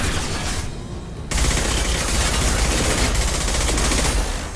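Dense, continuous gunfire in Mass Effect 2 during a firefight aboard a large Geth station. A brief quieter gap gives way to sustained loud bursts of rapid shots.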